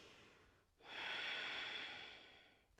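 One long, deep exhale through the nose or mouth during a morning yoga flow, a soft breathy rush that swells after a brief pause and slowly fades, close and alone.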